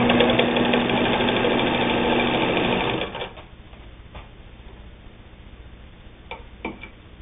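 A Singer 99 sewing machine stitches through two layers of denim, running with a steady mechanical whir for about three seconds before stopping. A few light clicks follow in the quiet.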